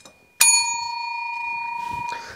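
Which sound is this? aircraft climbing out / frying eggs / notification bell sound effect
notification bell sound effect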